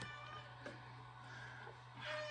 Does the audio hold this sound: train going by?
no